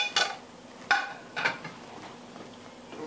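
Beef clatters into a broccoli stir fry pan in a few sharp metallic clanks, likely a utensil knocking the pan, then settles into a quieter stirring scrape with no talking.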